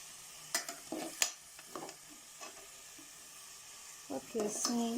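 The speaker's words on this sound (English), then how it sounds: "So that is how you continue to stir everything" Nigerian fried rice made without stock, stirred in a frying pan: soft scraping and clattering strokes come in irregular bursts over a faint sizzle, with a voice talking intermittently.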